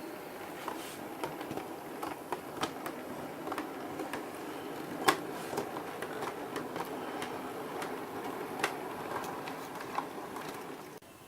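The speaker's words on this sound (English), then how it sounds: "A British Railways London Midland Region local passenger service leaves Billingsley." An O scale model train, a British Railways local passenger service, pulls away from a model station with soft rhythmic clicking of wheels over rail joints and a faint steady whir, quiet and close.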